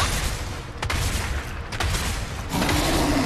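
Shotgun blasts in Devil May Cry, three sharp, loud reports spaced about a second apart over a constant background roar of game noise, with no one talking.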